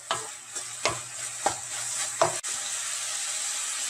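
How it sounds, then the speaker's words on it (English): Chopped cashew nuts frying in dissolved jaggery for Odia manda pitha, with a soft hiss and a few close scraping stirs and knocks of a spoon in the pan, heard alone. "Now add the chopped cashew nut and fry it"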